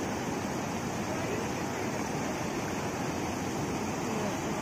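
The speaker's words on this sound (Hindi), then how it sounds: "यहाँ पे काफी बड़ा नाला आ गया है" A large stream in Corbett rushes steadily past, a dense continuous roar of flowing water close by, unbroken for the whole stretch.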